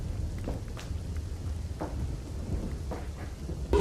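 Heavy rain over Navsari in South Gujarat: a steady, dense wash of rainfall fills the scene with low rumbling underneath and a few brief louder splashes, without any voices.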